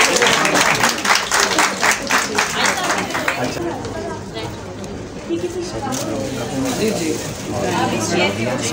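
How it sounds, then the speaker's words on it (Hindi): A stage audience at a beautician workshop breaks into steady clapping, with talk and crowd murmur running over the applause throughout. "आपकी तालियां होनी चाहिए"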